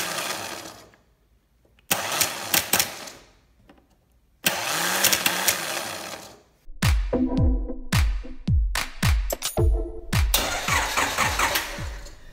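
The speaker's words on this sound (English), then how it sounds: "I really didn't think that that starter was gonna shoot out like that and spin" A car starter motor spinning on a car that won't start, heard as repeated loud whirring bursts, then a rapid string of sharp mechanical cranking pulses, close by.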